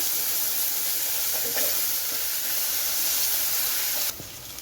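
Sliced onions sauté with a teaspoon of ginger garlic paste in a pan for Kerala-style chicken pulao, a steady close sizzle with faint stirring that drops off sharply near the end.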